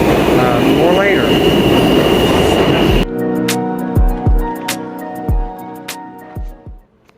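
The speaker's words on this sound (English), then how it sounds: "we're getting on a subway headed into Manhattan" A New York subway train rides into Manhattan. For about three seconds it gives a loud, close rumble with squealing wheels, then cuts to quieter, sparse plucked tones.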